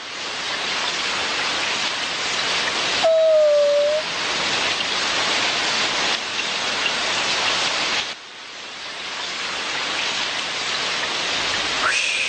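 Steady rain pours down in a Shin chan cartoon, a continuous broadband hiss that runs the whole stretch with a brief tonal chirp partway through and small dips in level.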